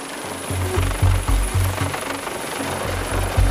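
A rescue helicopter's rotor thumps in a steady rapid rhythm with a low engine roar during hoist drills, loud and nearby, no voices.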